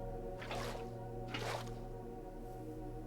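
Two soft splashing gushes about a second apart as water is poured from a bucket to place water sources on a Minecraft Java farm, over a steady low hum with no talk.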